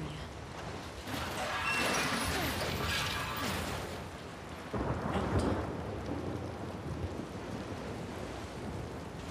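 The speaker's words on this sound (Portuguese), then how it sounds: "Mó chuva." Heavy rain and rolling thunder in The Last of Us Part II, a dense steady downpour with deep rumbling swells, loud and continuous throughout with no clear talk.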